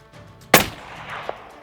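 A single sharp, loud rifle shot from a 6.5 PRC firing Hornady ammunition off a tripod cracks close by, and a faint distant impact follows a moment later.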